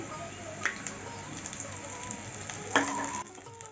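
Ginger garlic paste hits hot oil over fried onions while cooking Rui Posto, a soft continuous sizzle close by, with a couple of sharper bursts as the paste goes in and is stirred.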